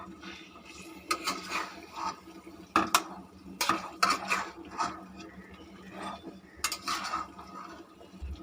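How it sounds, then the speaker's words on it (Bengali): Chicken pieces being stirred into a spice mix in a pot for Bengali chicken kosha, with intermittent scraping and metallic clinks of a utensil against the pot, fairly close and without talk. "এবার আমি এই মাংসর পিসগুলোকে এর মধ্যে অ্যাড করে দিলাম এবং এটাকে একটু ভালো করে নেড়ে চেড়ে মিশিয়ে নেব।"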